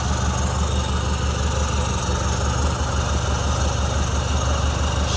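A 1950 Mercury Monterey flathead V8 with tri-power carburetors idles smoothly and steadily. Its low, even rumble runs close and continuous with no talk over it.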